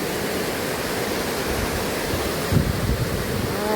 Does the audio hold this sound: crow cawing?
no